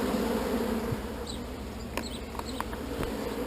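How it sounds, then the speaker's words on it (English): Honeybees from an artificial swarm buzz in a hive box, a steady close drone with faint wingbeats and a few brief higher buzzes of individual bees passing near. "So this is our artificial swarm."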